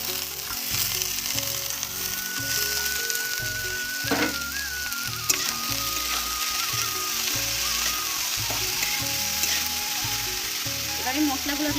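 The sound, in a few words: potato added to frying onions and green chilli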